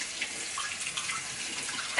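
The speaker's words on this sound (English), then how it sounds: "After these are done, I'm gonna rinse them in cold water." A cold tap runs in a steady, moderately quiet stream as rice noodles are rinsed, with light splashing and small spatters against the sink.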